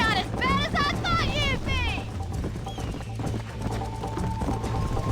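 A horse gallops in the Red Dead Redemption video game, its hooves drumming in a rapid rhythm during a race. A voice talks over it, and a whinny-like call rises near the start.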